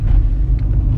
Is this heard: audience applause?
no